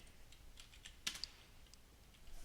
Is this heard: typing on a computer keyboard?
yes